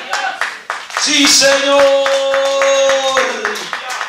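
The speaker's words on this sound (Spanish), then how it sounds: "Denle un aplauso al Señor" A church congregation claps their hands in steady rhythmic unison during a worship service, the sharp beats loud and close over a sustained singing or speaking voice and musical tones.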